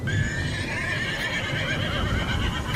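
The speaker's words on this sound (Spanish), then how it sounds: "se volvieron a escuchar otro relinchar" A horse whinnies in a roadside horror story, a loud, continuous neigh over a dense bed of sound that lasts the whole stretch, with faint hoof-like thuds underneath.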